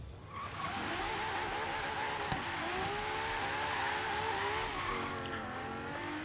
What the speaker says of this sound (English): I am drifting awfully right now